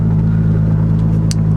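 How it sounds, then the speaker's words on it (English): A 700hp Toyota Supra engine idles close and loud with a slightly lopey, uneven cam pulse, a strong low rumble running continuously through the moment. "It's got a little bit of an idling issue, so sometimes the cams sound kind of lopey"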